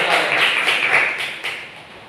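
Classroom of students clapping their hands in applause, a short burst of quick, overlapping claps close by that fades toward the end.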